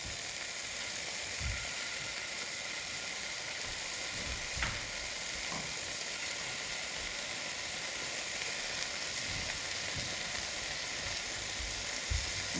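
Chicken pieces fry in a pan for chicken alfredo, browning with a soft, steady sizzle throughout and a few faint scrapes and taps of a utensil.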